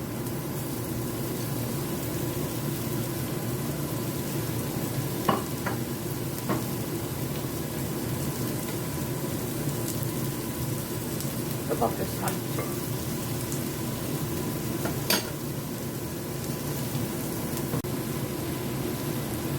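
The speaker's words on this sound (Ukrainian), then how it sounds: "Тепер сюди кидаю цибулю, підсмажу цибулю." Onion sizzles steadily in a pan for a vegetable and meat stew, a constant hiss of frying with a few faint clicks and knocks.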